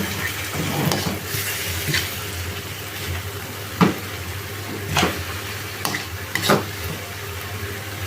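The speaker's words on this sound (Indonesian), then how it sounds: "lalu kita masukkan kejunya tadi, kita aduk," Cheese mixture stirred in a pan with a low sizzle underneath, with several short scraping strokes of a utensil against the pan at irregular intervals, close and moderately loud, with no talking.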